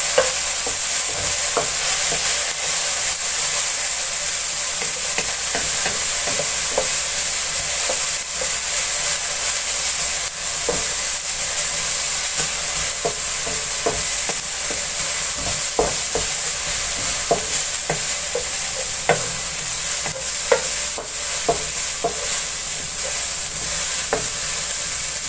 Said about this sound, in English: As soon as the onions get a little color, you don't need to roast them